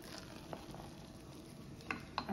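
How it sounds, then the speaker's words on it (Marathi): Masala for bisi bele bhath bubbles and simmers in a pot, a soft steady crackling with a few sharper pops near the end. "इथं हा मसाल्याला सुद्धा आपल्या छान उकळ आलेली आहे"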